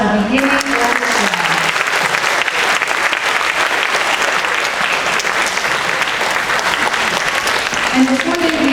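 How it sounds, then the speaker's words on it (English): Loud, sustained audience applause for a beginning strings orchestra at an elementary school spring concert, continuous dense clapping filling the room, with a voice briefly audible near the start and end. "One more huge round of applause for our beginning orchestra."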